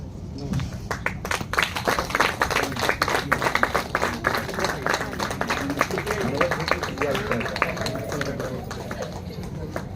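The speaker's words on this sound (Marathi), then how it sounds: "जरा जोरात टाळ्या" An audience at a felicitation event bursts into sustained, dense clapping that goes on for the whole stretch, with voices and shouts mixed in beneath it.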